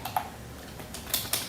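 Keystrokes on a computer keyboard come in a short, uneven burst of a few close, crisp taps separated by brief pauses, with no talking over them.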